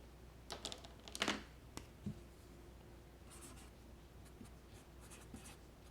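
Pen writing math working on a small sheet of paper, a few quick scratchy strokes clustered early then lighter intermittent scribbles, close and quiet with no talk.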